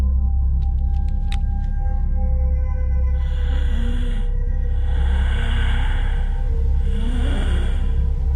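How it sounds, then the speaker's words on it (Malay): Eerie breathing effect from a radio horror story, slow swelling breaths repeating about three times over a low droning background with faint tonal pings. "Saya hanya dengar bunyi suara seperti orang sedang bernafas."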